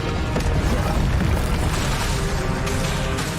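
Incendio fire spell blasts in the video game Hogwarts Legacy, loud booming roars with a sustained crackling, rumbling body and a few sharper bursts, heavy low-end energy filling the whole span, with no talking.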